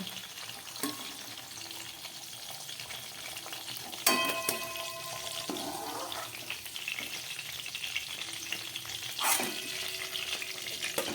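Flat beans fry in hot oil for Bengali shim paturi, a steady moderate sizzle close by, broken by a few sharp clatters of a utensil against the pan, with no speech.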